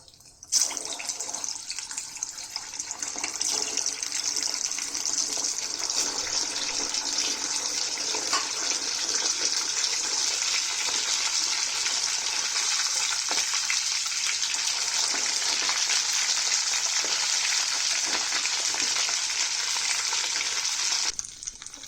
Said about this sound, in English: The Arbi is boiled and peeled and ready. Let's fry these.